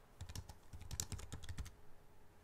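Rapid keystrokes on a computer keyboard enter a short phrase into a Salesforce analytics filter field, an irregular burst of close, crisp clicks for about a second and a half before trailing off.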